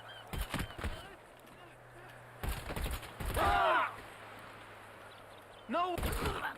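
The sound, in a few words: gunshots in GTA 5 Online video game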